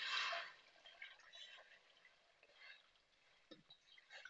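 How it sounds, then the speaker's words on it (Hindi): Water is poured from a cup into a soup pot on the stove while a chicken hot and sour soup is made, giving a soft, quiet splashing that is strongest at the start and then fades to a faint trickle. "साथ ही मैं 8 कप पानी डाल दूँ।"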